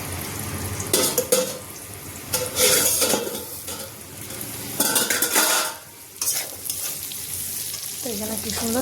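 Potatoes, carrots and onions sizzle and fry in a pan while a utensil stirs and scrapes through them in repeated bursts, with clinks of metal on the pan and short pauses between the stirring strokes.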